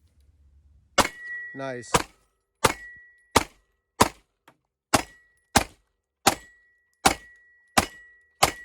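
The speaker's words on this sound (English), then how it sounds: "shooting the most expensive ammo we have out here. This is the Federal Plus P 124 grain HST" A Glock 43X MOS pistol firing Federal +P 124 grain HST rounds outdoors: a string of about ten sharp, loud gunshots at a steady pace, roughly one every three-quarters of a second, with a brief spoken word early on.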